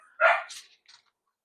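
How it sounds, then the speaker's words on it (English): A single dog gives one sharp, close bark followed by a fainter short yip, then falls quiet, heard in a garage during a Saab 900 Turbo 16S Flat Nose restoration. "You have to excuse the dog; she's nutty."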